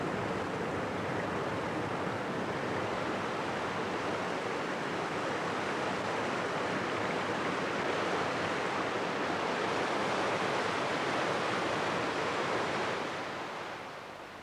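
Rushing water at Keld, a small stone village on the Coast to Coast walk, pours in a steady, dense roar that holds for the whole stretch before easing slightly at the end, with no voices over it.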